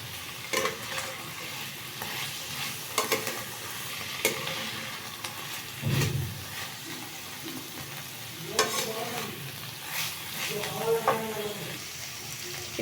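Watermelon peel, with sour yogurt added, is sautéed in a pan, giving a steady sizzle under repeated scraping and stirring strokes from a spoon. Soft bubbling continues throughout, close and moderately loud.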